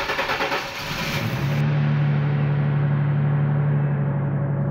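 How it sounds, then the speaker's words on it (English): A car engine revs as the vehicle is driven off, settling into a loud, steady mid-pitched drone close by, with no voices. "forcefully led Lewis into his car and drove off."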